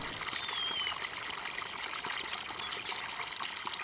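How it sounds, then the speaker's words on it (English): Running water in a Farming Simulator 19 Tyrolean Alps map, a steady broadband trickle and stream flowing continuously near a small building, with no talk. "Ooh, running water."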